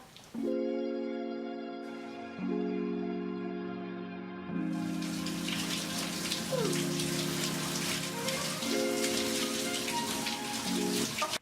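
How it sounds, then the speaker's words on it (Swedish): A shower sprays a steady hiss of running water while long hair is washed, entering after a few seconds and continuing beneath louder sustained music tones. "visa er hur det kan gå till när jag duschar"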